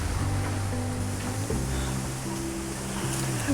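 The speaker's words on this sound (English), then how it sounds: "this water feature with a lovely soft sound" A small garden water feature trickles softly in a steady, continuous wash of water. Some faint tonal sounds run underneath it.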